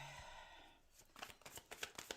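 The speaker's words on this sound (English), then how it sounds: "sorry, Tori, just giving the cards a good little shuffle" Tarot cards being shuffled by hand, a very faint soft rustle followed by a run of light riffling taps, close and quiet with no talking.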